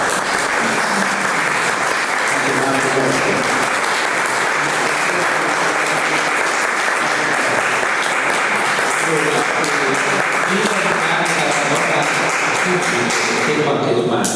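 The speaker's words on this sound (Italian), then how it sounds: "Mario Colucci, applauso." An audience applauds after a talk on psychiatry, steady dense clapping that fills the room at a loud, even level for the whole stretch without fading.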